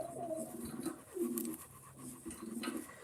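A racing pigeon coos in soft, low, rolling phrases, repeated several times up close with light scratching and shuffling around it.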